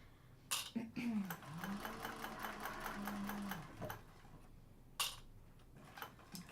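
A Tiffany sewing machine stitches in a sustained run of rapid, even mechanical ticking at close range, starting and stopping a couple of times with faint handling noise between runs.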